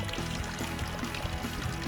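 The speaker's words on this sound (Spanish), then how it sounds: "Algo muy interesante que se van a encontrar también es esta fuente donde hay agua" Water pours steadily from a drinking fountain in a stone setting, a continuous close splashing stream with no pauses.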